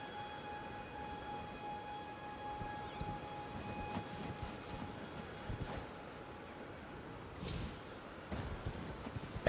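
Horse hooves pounding at a gallop in Elden Ring, a steady rhythmic clatter at low volume under game ambience, with a faint tonal hum running through.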